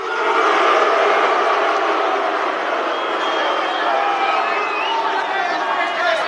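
Loud crowd at a UFC 284 pre-fight press conference, jeering in a dense, continuous roar of shouts and chants that holds for several seconds.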